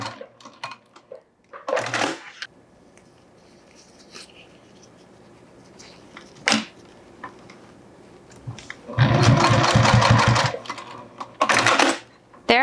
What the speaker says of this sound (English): We add the ring and baste them together.